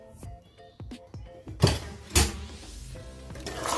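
A spoon stirs mutton rib bone soup in a pot, making a run of light clinks and scrapes against the metal, then two louder clattering knocks, close by and with no one talking.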